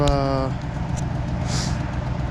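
A fairly quiet truck engine idles steadily nearby with a low, even rumble and a little mechanical noise, such as ticking from broken exhaust manifold bolts, while a brief voice sounds at the very start.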